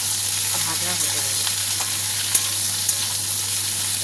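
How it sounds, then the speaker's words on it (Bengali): Ridge gourd and potato pieces fry with nigella seeds in hot oil, giving a steady, close sizzle that runs the whole time with a couple of faint clicks, under a low constant hum. "এবার এটাকে এভাবে ভাজা হতে দেবো"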